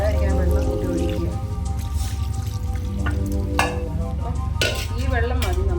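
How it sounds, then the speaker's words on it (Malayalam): Water poured into masala frying in leftover oil, then stirred with a ladle: bubbling, spattering sizzle with wet scraping stirs and a few sharp splashes, close by, under a talking voice. "അതിനകത്ത് വരാതിരിക്കാൻ വെള്ളം കൂട്ടി ഒഴിക്കുക."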